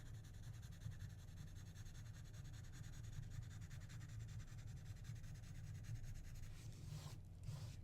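Quiet, steady rubbing of a pencil or drawing tool across paper while shading a drawing, a soft continuous scratch heard up close with no voices.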